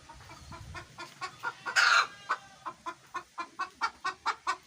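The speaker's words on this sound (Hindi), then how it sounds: "हमारी ये मुर्गी अभी इधर शोर कर रही है" A hen about to lay an egg clucks repeatedly in a steady rhythm, close by, with one louder squawk in the middle of the series.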